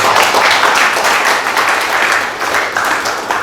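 A talk show audience at a forum breaks into sustained applause, a dense, loud wash of many hands clapping throughout with no talking over it.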